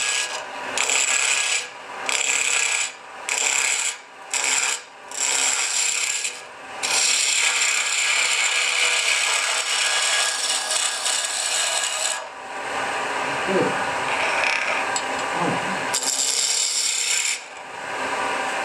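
A turning tool rounds over very hard wood spinning on a lathe, giving a loud, continuous rasping scrape broken by short gaps as the cut starts and stops, with a lower, rougher grinding section toward the end.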